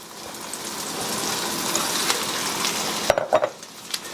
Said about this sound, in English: And very carefully stick it in our cast iron skillet.